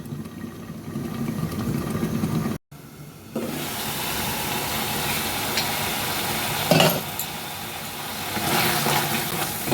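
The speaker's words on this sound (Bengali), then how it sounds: "পেঁয়াজটা ফুটবে বলে সেই জন্য আমরা চাপা দিয়ে দিয়েছি। দেখুন কীরকম ফুটছে।" Onions cooking under a lid in a covered pan, giving a steady sizzling, bubbling hiss that continues throughout, with a brief cut early on and a few louder clatters and swells.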